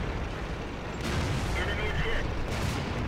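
Two heavy booming tank cannon shots from World of Tanks, fired by the WZ-132 tank, ring out over a constant rumbling background.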